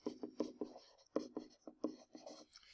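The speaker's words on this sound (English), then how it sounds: "I'm going back and highlighting it again in black" Marker tip scratching across a paper study guide in quick repeated strokes, a rhythmic series of short, close, soft squeaky scrapes with brief pauses between them.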